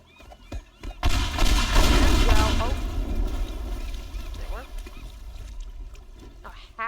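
Explosive charges placed on a building's roof and edges detonate in the video game Teardown, a loud booming blast followed by rumbling debris and crackling that slowly fades over several seconds, with a few sharp pops near the end.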